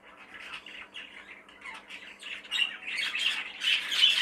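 Young show birds squawking continuously nearby in a shed, a dense chorus of harsh calls and chirps that grows louder and busier toward the end.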